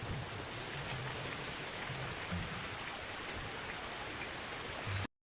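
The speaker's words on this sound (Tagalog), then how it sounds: "hinghinay na ang ulan" Steady rain falls on a farm, a soft even hiss of drops continuing without a break and then cutting off abruptly.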